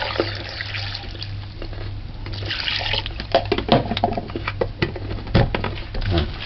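Water splashes and trickles unevenly into a container of cut-up coconut, with irregular gurgles and a few louder sloshes near the end.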